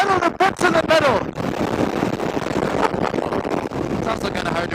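Wind buffets the microphone in a continuous low roar, with a person talking at the start and occasional voice fragments over the rumble.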